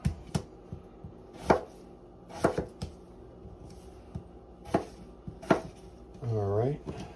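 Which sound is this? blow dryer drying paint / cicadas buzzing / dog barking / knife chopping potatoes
knife chopping potatoes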